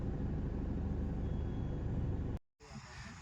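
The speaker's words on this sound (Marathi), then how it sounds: "ट्रॅफिक जाम लागलं झालं आम्हाला" Steady low road-traffic rumble from idling and crawling vehicles in a traffic jam near an MIDC industrial area, heard from a truck cab; a continuous engine drone that cuts out abruptly near the end, then resumes more quietly.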